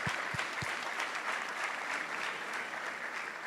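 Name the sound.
applause for the boys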